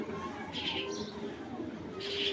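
A black checker racing pigeon gives soft cooing and faint chirps in a quiet room, brief calls coming twice over a low steady background.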